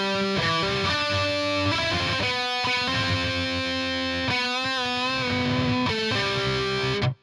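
Distorted electric lead guitar riff from a song, a dense metalcore line of quick shifting notes over heavy low tones, loud and continuous until an abrupt stop.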